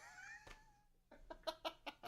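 A cat vocalizes with a drawn-out, wavering meow followed by a quick series of short chirping calls, faint and close by in an otherwise quiet room.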